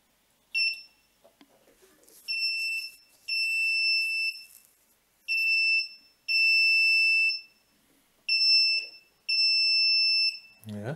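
A piezo buzzer driven by an Arduino beeps in a series of shrill, steady electronic tones of varying length with short gaps between them, clear and close, with a brief voice at the very end.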